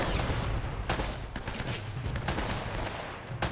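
Sniper gunfire rings out in the video game Uncharted, several sharp shots cracking through a dense, noisy backdrop of in-game action.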